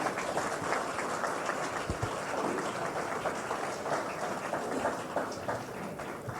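Audience at an NDTV India stage event applauding the home minister Amit Shah's arrival, a dense, steady patter of clapping at moderate, somewhat distant level throughout.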